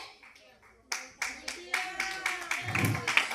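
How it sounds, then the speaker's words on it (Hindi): Audience clapping at a company presentation event, starting as scattered sharp claps and swelling into fuller, denser applause over a few seconds, moderately near. "जबरदस्त तालियां आपने अपने लिए"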